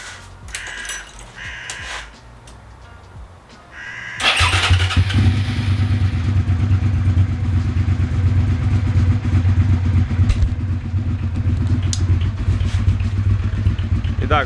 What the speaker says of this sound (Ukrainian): Все, зараз запускаємо мотоцикл.